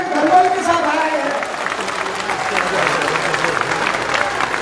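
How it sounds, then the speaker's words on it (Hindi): A crowd claps at an outdoor BJP candidate welcome rally in Malkheda, a steady wash of applause with a loudspeaker voice talking over it throughout. "जोरदार तालियां"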